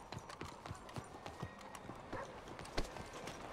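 Horse galloping in Red Dead Redemption 2, a quick, even run of hoofbeats on open ground, fairly faint and close, with a heavier thud near the end.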